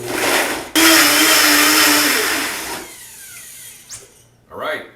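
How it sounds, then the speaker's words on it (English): A Blendtec blender whirs loudly on high as it blends a pepper mango dressing, a dense roaring motor sound that cuts briefly, surges back, then spins down; a voice speaks near the end. "instant dressing in the Blendtec blender works really good, nice consistency"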